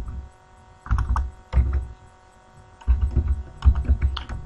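Computer keyboard typed in short clustered bursts of soft clicking keystrokes, close and fairly loud over a low steady hum, with brief pauses between runs.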